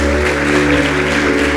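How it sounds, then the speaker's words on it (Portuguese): Applause from a congregation during a church service, a steady wash of clapping over a strong sustained low hum, continuous throughout. "Vamos aplaudir Jesus."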